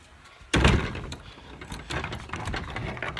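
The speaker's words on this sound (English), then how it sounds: "shut this door over here" A door is shut with one loud, close thud and rattle, heard during a vlog while rain is coming down hard outside, followed by softer clattering and handling noises.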